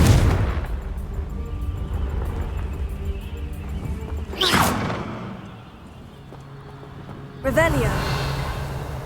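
A Confringo blasting spell in Hogwarts Legacy explodes with a loud burst partway through, with a second sharp blast near the end, over steady game ambience and music.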